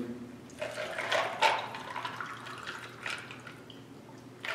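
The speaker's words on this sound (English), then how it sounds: "Then you're just gonna put some water in it." Room-temperature water poured over ice in a cup for iced coffee, a gurgling, splashing liquid pour that swells and fades, near and fairly quiet with no talk.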